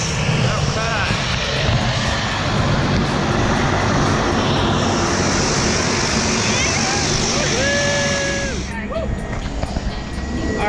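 Aircraft engine drones steadily at the runway before a tandem skydive from 13,500 feet on a sunny day, loud and continuous throughout, with a voice breaking in briefly near the end.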